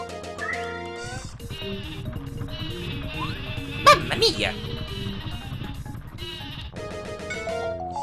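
The Sleepy Sheep item in the Paper Mario video game is used in battle, setting off a cluster of bleating sheep sounds over game music, with a character's voiced exclamation in the clip.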